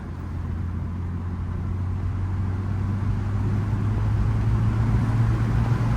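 A 2012 Mini Cooper Countryman turbo cruising gently through a neighborhood, a steady low engine drone and road rumble heard from inside, with no talk.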